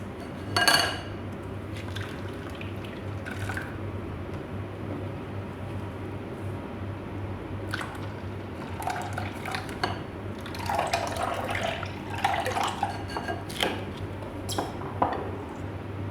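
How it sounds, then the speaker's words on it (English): Cucumber, ginger and lemon juice poured through a sieve. A faint liquid trickle runs under a low steady hum, broken by a few clinks and scraping bursts of utensils against the sieve and bowl. "Now it's time to sieve. I want to remove the impurities from the juice."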